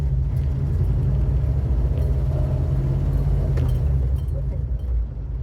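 A Chevrolet Nova's engine idles roughly after nearly stalling, a close, loud, uneven low rumble that holds steady and dips slightly at the end.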